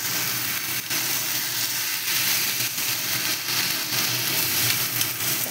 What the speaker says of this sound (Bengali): হাই ফ্লেমে ভাজবো